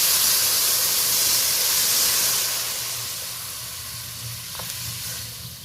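Black mustard paste and a little water hit fish frying in a pan, giving a steady, close sizzle and hiss that fades slightly toward the end, with no voices.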